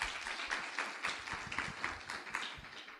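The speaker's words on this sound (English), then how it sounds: "How about a round of applause to kick things off for them?" An audience at a spring keynote talk gives a round of applause, moderately quiet but clear, with individual claps pulsing irregularly in a thin, loosely synchronized patter.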